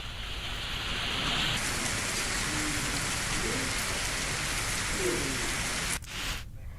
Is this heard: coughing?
no